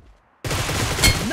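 Gunfire in a team shooter video game bursts in abruptly after near-silence, a loud rapid fusillade of overlapping shots that continues to the end, with no voices.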